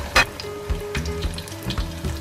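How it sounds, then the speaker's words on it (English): Lumpia spring rolls deep fry in canola oil in a pan over medium heat, a close, busy sizzle with crackling pops and occasional bursts, heard alone with no talk. "Fry each lumpia for several minutes, then turn when it appears slightly golden brown."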